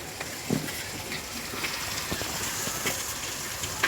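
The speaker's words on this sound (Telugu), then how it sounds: "వర్షం is coming." Steady rain falling outdoors during egg cooking, a constant broadband patter with scattered louder drops, moderately loud and continuous with no talking.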